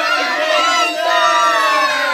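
A lively crowd at a party cheers and shouts in a sustained, loud roar of many voices, with excited yells rising over the din.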